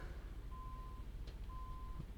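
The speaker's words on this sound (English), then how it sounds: "he's beeping at me because I'm too close to him" A truck horn in American Truck Simulator, two steady sustained beeps each about half a second long, moderately clear over a low engine rumble.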